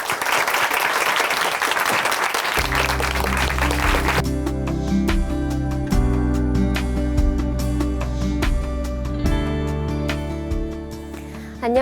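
Church audience applause welcoming a speaker at Chuncheon Hanmaeum Church: dense clapping for a few seconds, then giving way to sustained organ-like music with steady tones continuing to the end.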